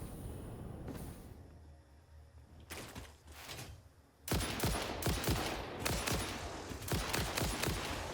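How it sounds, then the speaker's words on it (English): A rifle firing rapidly in the video game Satisfactory, with sparse shots early on, then a dense, loud stream of quick rounds from mid-clip to the end. "I didn't expect the rifle to shoot that fast."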